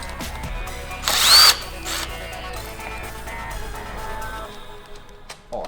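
Power drill unscrewing a part on a Mototec X1 110cc kids dirt bike during assembly, one brief loud whirring burst followed by quieter mechanical handling noise.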